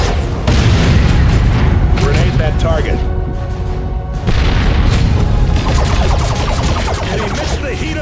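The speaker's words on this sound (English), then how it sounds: "Grenade that target." Heavy grenade blasts in Warhammer 40,000: Dawn of War II, with booming explosions and crashing debris over continuous battle gunfire while unit voices call out throughout.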